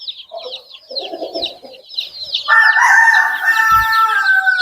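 Andijon black chickens and week-old chicks give out high peeping and clucking, then a rooster crows loudly and for a long time close by, alone without any talk.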